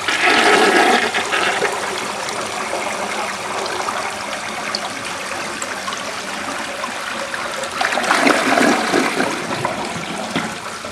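A 1963 Universal-Rundle Briggs toilet flushes with its lever held down, giving a loud, continuous rush of water that swells again near the end before trailing off into running water.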